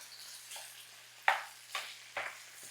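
Sausage and onions sauté quietly in a pan, a faint steady sizzle broken by a few brief stirring scrapes spaced about half a second apart.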